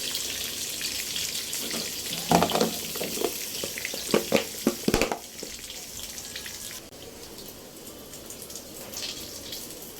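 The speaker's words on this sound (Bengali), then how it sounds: "নাগেটস হচ্ছে ফ্রোজেন ছিল, শুধু ফ্রাই করে নেব" Frozen nuggets and french fries frying in hot oil, a steady hiss with a burst of clattering stirs and scrapes in the middle, then the sizzle carrying on more quietly.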